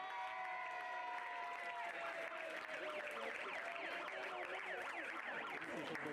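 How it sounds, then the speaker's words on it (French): Spectators at a pony club show-jumping event applaud the riders, clapping under music with gliding pitched tones and a voice over a loudspeaker. "On les applaudit bien fort."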